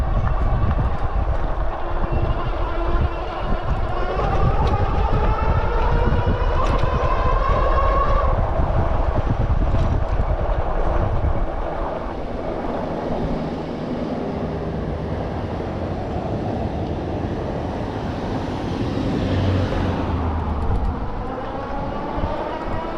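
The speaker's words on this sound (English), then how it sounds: "let's go cruising down the street with 75 phase amps" Electric bike with a Bafang G62 hub motor cruising down a street at 75 phase amps, a steady motor whine with shifting pitch under heavy wind rush that eases partway through.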